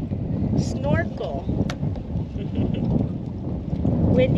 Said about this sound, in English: It's incredibly windy.